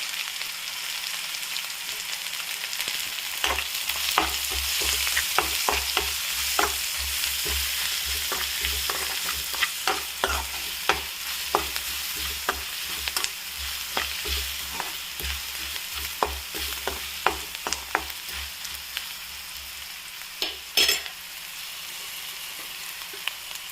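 Turmeric powder fries in a pan for an ilambakka fry, with a continuous close sizzle and many sharp spatula scrapes and taps as it is stirred.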